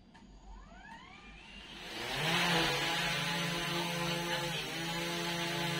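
A small drone spins up its rotors, a rising whine sweeping upward before settling into a loud, steady buzzing hum close by as it lifts off and hovers.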